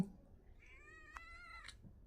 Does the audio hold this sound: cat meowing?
yes